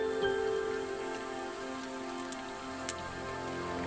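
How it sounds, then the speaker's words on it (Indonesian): Morning rain on a mountain hiking trail, soft steady patter and scattered drips against a faint tonal hum, with a sharp tick near the end; quiet and close, no voices. "Karena hari hujan, kami pun terlambat memulai pergerakan di pagi hari."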